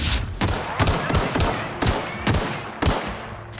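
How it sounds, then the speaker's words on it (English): Rapid gunfire from a degrading weapon in the sci-fi shooter game The Outer Worlds, with repeated loud sharp shots spaced roughly half a second apart over a steady background din. "I thought I'd try firing a lot, see if that made it better."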